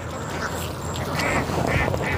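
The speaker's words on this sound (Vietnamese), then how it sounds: "Này là những cái con vịt đó" Ducks raised on a Vietnamese family's duck farm quack repeatedly in short nasal bursts, several calls overlapping close by over a rough outdoor background.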